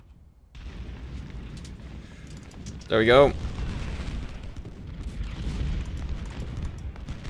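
A single loud cannon blast booms in the Civil War battle game Ultimate General: Civil War, cutting through steady battlefield rumble as someone talks over it.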